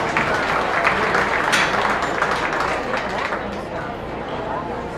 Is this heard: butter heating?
no